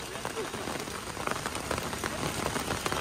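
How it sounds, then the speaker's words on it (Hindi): Steady rain falls outdoors at an army recruitment rally, a dense continuous patter of drops hitting surfaces with no pause and no voices. "जैसे में अब बारिश हो रहा है"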